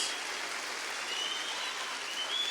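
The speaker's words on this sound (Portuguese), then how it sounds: "dê o seu melhor aplauso nessa noite em nome de Jesus" A church congregation at an evening worship service applauds in a dense, steady wash of clapping, fairly faint and even, with no voices over it.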